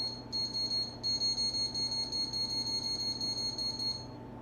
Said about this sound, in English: I'm going to take my timer, turn it on,